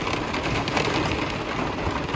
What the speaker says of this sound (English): It's been raining like this for a good half an hour.